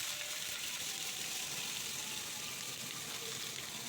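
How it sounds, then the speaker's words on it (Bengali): Chopped onions hiss and sizzle in hot mustard oil with cumin in a kadai. The sound is a steady, close, even frying noise that holds for the whole stretch. "জিরেটা একটু ভাজা হলে আমি এতে 2টো মিডিয়াম সাইজের পেঁয়াজ কুচি দিয়ে দিলাম।"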